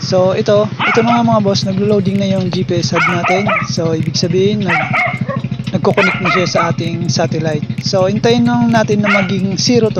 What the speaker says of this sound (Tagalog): Pasensya na sa aso namin dito kasi sobrang ingay.